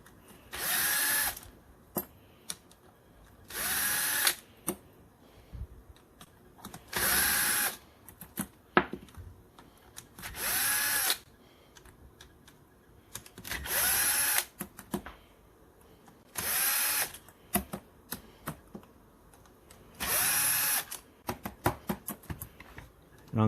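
A power tool spins bolts out of the charging system cover during a Yamaha R6 engine teardown, with short whirring bursts repeating every few seconds and clinks and handling noises between them.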